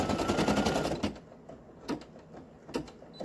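A sewing machine stitches an applique in a fast, loud rattling run for about a second, then stops, followed by a few faint clicks and taps from handling the fabric.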